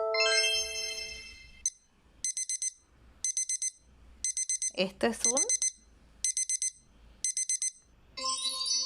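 A household alarm clock rings in short, evenly spaced bursts of bright beeping, loud and close, with a brief spoken word in the middle and a trilling tone before and after.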